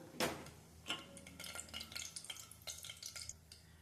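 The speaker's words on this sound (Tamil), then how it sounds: "பிரிஞ்சி இலை இது கூட சேர்த்துக்கலாம். நல்லா பொரியணும்." Bay leaf crackling in hot oil during Tamil home cooking, faint scattered pops and light sizzle ticks spread through a quiet background.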